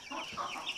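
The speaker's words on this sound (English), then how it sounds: "here's our meat chickens" Meat chickens in a brooder cluck in a busy overlapping chorus, a steady murmur of close, moderately loud calls from several birds with no voices.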